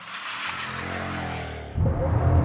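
A Bugatti Chiron Pur Sport held on launch control gives a steady broad roar, then a sudden shift to a deeper, louder rumble as it launches, close and without talk.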